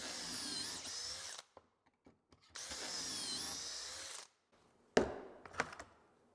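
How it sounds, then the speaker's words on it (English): A power drill bores pocket holes through wooden boards clamped in a Kreg 720 Pro pocket hole jig, two loud sustained whirring bursts close up, each followed by a pause, then clunks of the board being handled. "flip it over, drill a couple more holes."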